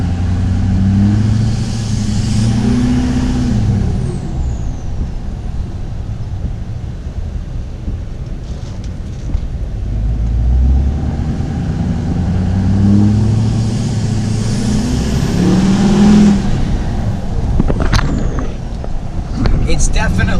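Duramax diesel pickup with its resonator deleted, exhaust revving in long swells that rise and fall, loud and close, with wind buffeting the microphone and a voice speaking over it.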